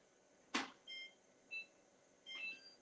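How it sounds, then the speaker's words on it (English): A kitchen timer set for four minutes, a sharp click followed by a handful of short high electronic beeps spaced out, close and fairly quiet. "Did I set the timer? No. Let's do 4 minutes."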